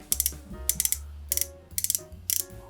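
Bezel on a Lige Design Hulk homage watch being turned, giving quick bursts of crisp, snappy ratchet clicks in five short clusters, close and fairly quiet, with no talking.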